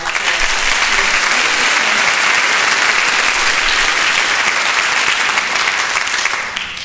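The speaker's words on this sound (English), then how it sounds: "Let's have a round of applause." Sustained, dense audience applause at a Davis Parent University lecture with Pulitzer Prize-winning journalist Matt Richtel, loud and steady throughout before tapering slightly at the very end.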